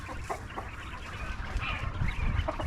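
Soft clucking and chirpy bird calls from a small flock, steady and close, with faint rustling in the background.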